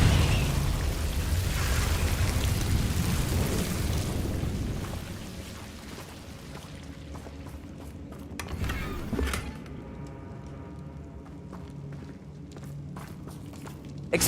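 Confringo blasting spell explosions in the video game Hogwarts Legacy: a heavy, booming rumble dominates the first half, then fades to a quieter stretch broken by a couple of sharp blasts before the end.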